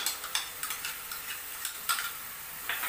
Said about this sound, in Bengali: দিয়ে আমি মশলাটাকে আরও ভালোভাবে কষে নেব